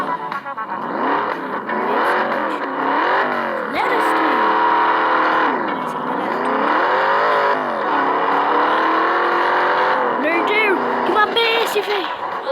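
A video game car's engine revs and accelerates continuously, the pitch climbing and dipping through gear changes, loud and close throughout.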